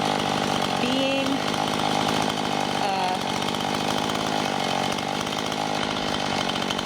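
A chainsaw runs steadily at close range throughout, with a constant buzzing whine that shifts slightly in pitch as the saw is moved.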